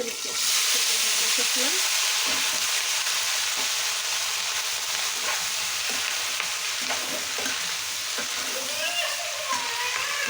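Onion flowers sizzle and crackle steadily in hot oil in a pan, with occasional stirring scrapes, close and continuous throughout.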